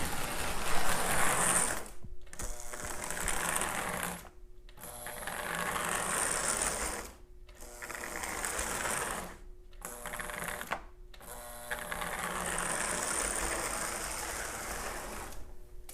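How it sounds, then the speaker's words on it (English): A Marx post-war toy train engine, freshly fitted with new wheel bushings and brushes, runs on test with a buzzing, whirring motor and rattling gears, in several bursts separated by brief silent stops. "So I'm going to put this back in the shell and give it a little test run and see how it does."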